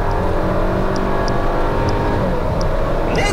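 Škoda Octavia III with the 1.8 TSI petrol engine at full throttle, a loud, steady interior drone of engine and road noise that holds constant throughout, with no talk over it.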